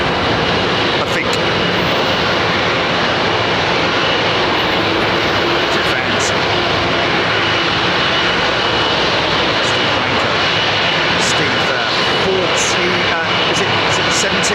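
A United airliner's jet engines roar at London Heathrow Airport, a steady, loud, broadband rumble lasting throughout, with voices talking faintly underneath.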